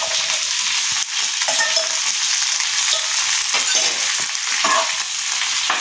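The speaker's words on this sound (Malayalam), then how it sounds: "നന്നായിട്ട് വഴറ്റുക" Onion, green chili, garlic and ginger sautéing in a pan for fish curry, a steady loud sizzle with occasional stirring scrapes.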